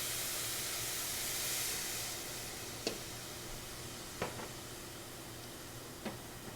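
Stock poured into a very hot pan already holding dry red wine sets off a steady, loud sizzling hiss that eases slightly over several seconds, with a few sharp pops and ticks.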